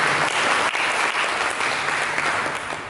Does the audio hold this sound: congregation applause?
yes